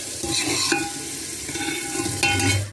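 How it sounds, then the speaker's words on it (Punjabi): Oil sizzles steadily in a pan while a spoon stirs and scrapes through the frying spices, with a brief louder scrape near the end. "ਹੁਣ ਮਸਾਲਾ ਭੁੱਜ ਗਿਆ"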